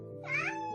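A kitten gives one short rising meow, close and fairly soft, over a steady low background hum.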